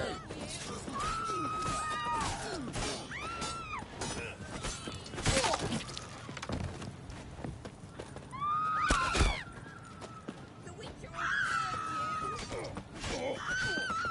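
Horses whinny and neigh several times over a busy, clattering soundscape in the video game The Witcher Wild Hunt, with sharp crashes and distant shouts between the calls.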